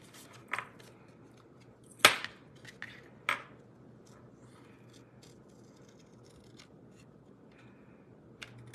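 Crisp close snips from scissors cutting a small paper wand piece out for a handmade stamped card, a few distinct cuts separated by quiet pauses, with no talking.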